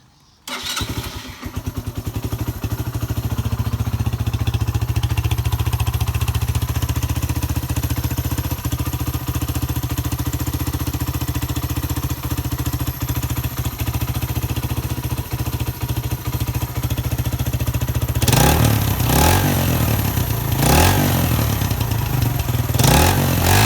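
A cafe racer motorcycle engine starts and settles into a steady, loud idle close by, running evenly for a long stretch, with a few sharper revs and clattery bursts near the end and no talk.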